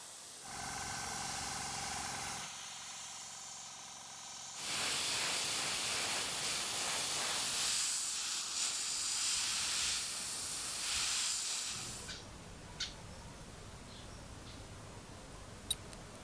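Bursts of spray paint hiss in several separate passes onto a metal pike fishing lure, some longer and louder than others, followed by quieter hissing and a few faint clicks.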